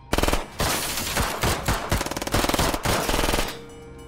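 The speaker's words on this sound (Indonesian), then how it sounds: "melepaskan tembakan beruntun" Loud rapid machine-gun bursts in a film gangster fight inside a prison, several volleys of fast repeated shots with brief pauses between, close and dominant.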